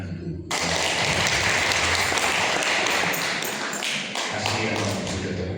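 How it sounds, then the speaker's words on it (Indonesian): A church congregation at a Sunday service claps together after a short quiet start, building into dense sustained applause that dips briefly near the end and then picks back up. "Silakan tepuk tangan dulu."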